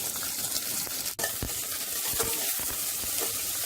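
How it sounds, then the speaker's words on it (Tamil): Ginger and onion pieces sautéing in a hot pan for brinjal sambar give a steady close sizzle, with several short stirring scrapes and clicks and one sharp knock partway through. "இஞ்சி, வெங்காய துண்டுகள் போட்டு கொஞ்சம் வதக்கிடலாம்"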